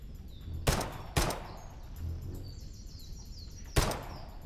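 Gunfire in the video game Bad Way, three loud sharp shots spaced unevenly with game ambience and faint bird calls between them.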